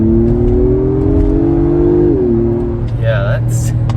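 A 2022 Acura MDX Type S engine accelerating, a rising steady hum that shifts pitch partway through, heard from inside the cabin with a voice briefly over it near the end.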